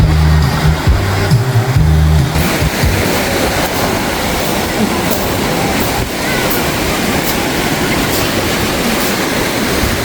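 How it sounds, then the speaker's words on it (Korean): Sea waves breaking at a crowded swimming beach, Wolpo beach in Korea, as a broad continuous surf roar that stays loud throughout, with a low rumble over the opening seconds. "아 파도도 많이 치고"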